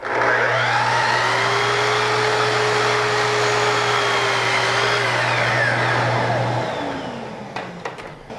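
A miter saw cuts wood molding for a Greek Revival window or door head. Its loud, steady motor whine runs for about six and a half seconds, then the blade spins down and fades.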